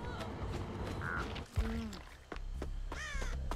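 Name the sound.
crows cawing as birds circle a character in a video game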